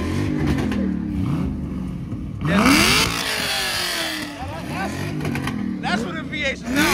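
A Dodge Hellcat at a busy street car meet blips and revs its engine in loud repeated bursts, with crowd voices talking and shouting throughout.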